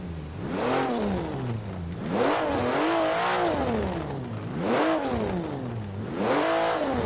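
A Porsche 992 Carrera S with its six-cylinder engine revs repeatedly while stationary, climbing and falling in about four loud, close surges, each rising to a strained howl before dropping back toward idle.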